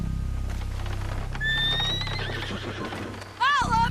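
A horse in the Red Dead Redemption video game whinnies loudly with a long wavering call, then gives a closer, sharper neigh near the end, with hooves and game ambience underneath.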